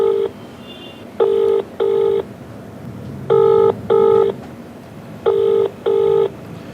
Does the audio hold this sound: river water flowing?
no